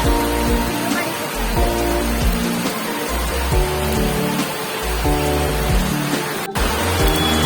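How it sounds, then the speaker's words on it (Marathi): A heavy downpour drums steadily on surfaces, a thick, even hiss of rain that stays loud and unbroken from start to finish. "खूप पाऊस येतोय."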